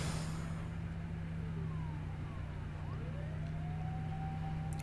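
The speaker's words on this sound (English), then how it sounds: "Achi could hear ambulance and police sirens wailing on the main road." Ambulance and police sirens wail from a main road in the game 428 Shibuya Scramble, their rising tones faint and distant over a steady low hum.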